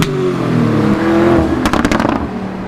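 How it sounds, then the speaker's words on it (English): Lamborghini Performante with a titanium Akrapovic exhaust, the engine humming loudly then breaking into a burst of sharp crackling revs near the end, close and with no talk. "a Krapovich exhaust"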